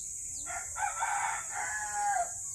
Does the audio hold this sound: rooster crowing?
yes